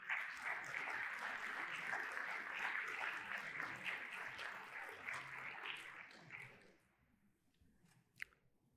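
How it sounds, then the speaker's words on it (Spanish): Church congregation applause during a sermon on the resurrection, sustained dense clapping that tapers off after about six seconds, leaving near silence and one sharp knock. "Demos un aplauso a Jesús por eso."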